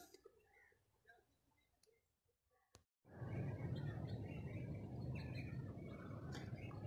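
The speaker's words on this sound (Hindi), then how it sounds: "खूबसूरत परिंदों का गोल" Birds chirping in a government fruit orchard at dusk, scattered tweets thin and distant at first before a loud, dense wash of chatter from a large flock fills the air.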